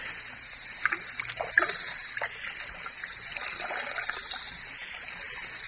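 Whiskey glugging out of a half-full bottle in a steady pour that trickles and splashes continuously for several seconds, close and moderately loud, with no voices.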